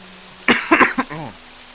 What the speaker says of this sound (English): Sorry about that if I coughed into the mic